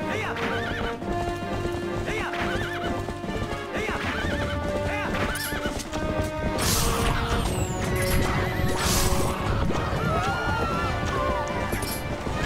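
Horse hooves clip-clopping at a gallop in Zelda: Twilight Princess, with neighs and whinnies, crashing hits and game music layered throughout, plus a voice talking over it.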